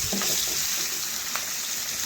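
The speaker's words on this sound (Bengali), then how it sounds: "মাথাগুলো ভাজতে একটু সময় লাগবে" Rohu fish heads fry in hot oil, producing a continuous close sizzle with a few faint clicks of stirring, with no talk.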